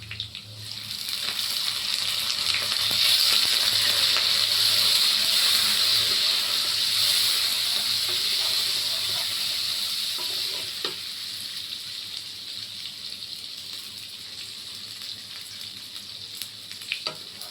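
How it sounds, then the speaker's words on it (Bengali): Soaked rice frying with potatoes in a pan gives a loud, close sizzle and hiss that swells early, then eases into quieter crackling with occasional scrapes of stirring. "ভালো করে চালটাকে ভাজবো।"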